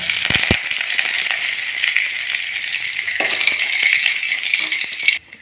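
Curry leaves and mustard seeds sizzling in hot oil in a clay pan used for roasting coconut: a loud, continuous hiss of frying with scattered sharp crackles and pops, close up, ending abruptly.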